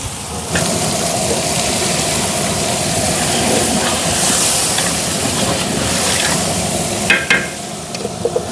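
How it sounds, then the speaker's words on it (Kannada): Ground mint, spinach and coriander paste with green chilli fries in a pan for a village-style chicken biryani, a loud, steady sizzling hiss close up, with a few stirring scrapes near the end. "ಇವಾಗ ರುಬ್ಕೊಂಡಿರೋದು ಪುದೀನ ಸೊಪ್ಪು ಪಾಲಕ್ ಸೊಪ್ಪು ಕೊತ್ತಂಬರಿ ಸೊಪ್ಪು ಹಾಕೋಣ"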